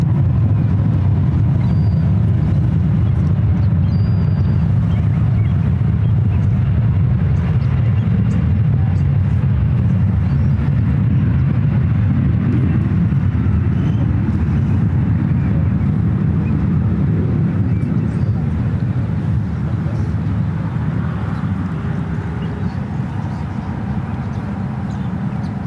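A seven-year-old Asiana Airlines Airbus A350-900 takes off at San Francisco International Airport, producing a steady, heavy low roar that holds for the whole stretch with only slight swells and no voices.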